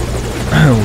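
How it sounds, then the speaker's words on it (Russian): A massive helicopter in the video game Metal Gear Solid V Ground Zeroes thrums loudly and close, its rotor drone rising in pitch near the end, with a voice speaking over it. "вертолет-то довольно массивный"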